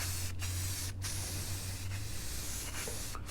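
Short bursts of spray paint hiss onto a fancy metal grill, several separate passes with brief pauses between them, close and loud over a low steady hum.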